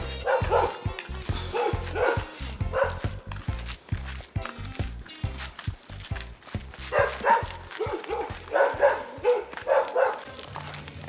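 Several dogs barking in Portland, Jamaica, repeated loud woofs and yips in quick irregular bursts, close by, mixed with footsteps and some voices.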